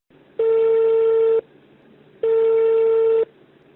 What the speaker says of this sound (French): Nous appelons M. Nguessan en question à Abidjan